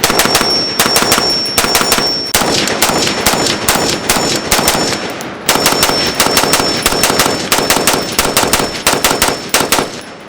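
A PSA JAKL rifle fires rapidly in long, fast, evenly spaced strings of loud, sharp shots, close by, with one brief pause partway through.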